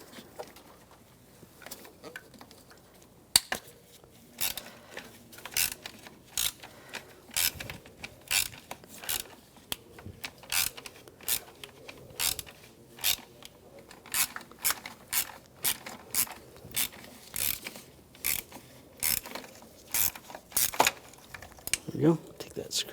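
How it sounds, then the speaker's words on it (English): A ratchet with an E8 socket backs out screws during valve cover replacement on a 2008-2013 BMW 328i xDrive, giving close, rhythmic bursts of sharp clicking that repeat steadily under a quiet workshop background. "Take that screw out and grab the actuator."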